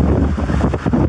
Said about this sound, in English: just fighting with the wind